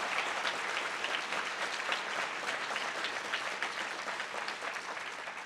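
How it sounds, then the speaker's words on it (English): Steady, dense applause from a large audience at a university State of the Campus address, heard at moderate distance with no talking over it. "Now you can give them the applause."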